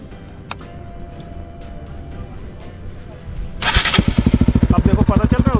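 Bajaj NS200 motorcycle fitted with an Akrapovic exhaust, quiet handling sounds and clicks, then the starter whirs and the single-cylinder engine fires into a loud, close, rapid pulsing idle.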